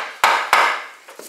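Two sharp taps on fender cowl braces being loosened under the hood of a 2002 Subaru WRX wagon, close and distinct with a short pause between them, followed by fainter handling noises.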